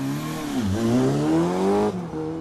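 A Ford Sierra Cosworth four-wheel-drive rally car's engine roars close and loud on a historic rally stage, pitch dipping then climbing as it revs, cutting off abruptly near the end.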